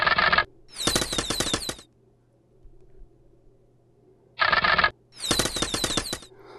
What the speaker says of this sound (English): So I'm just going to finish firing on this unit.